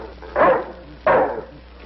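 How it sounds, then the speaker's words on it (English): A dog named Tom barks twice, two sharp, close barks about two-thirds of a second apart over quiet room tone. "Get that dog out."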